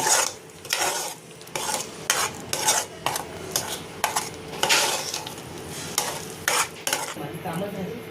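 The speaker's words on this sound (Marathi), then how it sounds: "प्युरीत सगळे मसाले असे मिक्स करून घ्यायचे आपल्याला." Spices being stirred into a puree in a pan for soya biryani produce repeated close scraping and clinking strokes of a utensil against the pan in an irregular rhythm, with a soft sizzle underneath and no talk.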